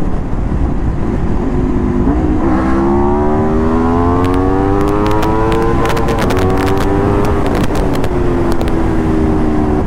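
An Aprilia RSV4 RR V4 motorcycle engine revs loudly and close, pitch climbing and falling through several rising sweeps over a constant rumble, with sharp crackles at the top of the revs.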